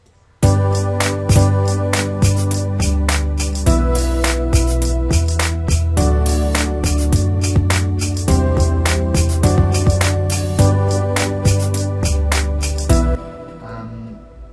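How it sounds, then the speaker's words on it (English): An R&B beat with deep booming 808 bass notes under crisp hi-hats and snares, steady and loud throughout before cutting off near the end. "So now the 808 sounds like this."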